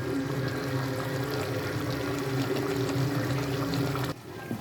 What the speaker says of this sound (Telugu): టమాటా జ్యూస్ కూడా పోసేసుకుందాం